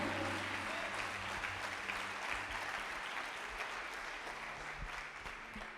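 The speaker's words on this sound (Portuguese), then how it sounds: "Se você quer, dê uma salva de palmas ele bem forte." Audience in a church bursting into loud, sustained applause, steady dense clapping filling the room for several seconds and easing only slightly toward the end.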